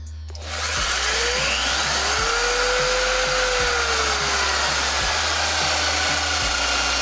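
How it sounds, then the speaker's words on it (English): High-RPM electric drill running steadily near the mic, a loud continuous whine with a faint pitch sweep and a low hum underneath, starting from quiet and holding full speed with no talking. "this drill has very high RPMs"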